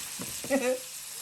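Beef sliders frying in a pan on a stove, giving off a steady, soft sizzle broken by a brief clatter and a voice.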